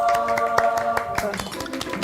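A small group clapping out on a golf outing in Hong Kong, rapid overlapping claps in a quick rhythm, close and fairly loud, with a tonal musical layer sustained underneath.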